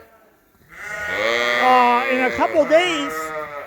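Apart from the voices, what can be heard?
sheep bleating in a barn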